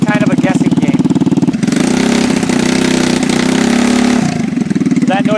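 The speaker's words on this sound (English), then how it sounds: "That noise you were hearing is a rich condition, where it's stumbling like that." A carbureted engine runs rich and stumbles, chugging unevenly at idle before swelling into a rougher, louder surge that fails to rev cleanly and then settles back, heard close with no clear speech.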